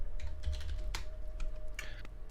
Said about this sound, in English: Ferociously typing with his new mic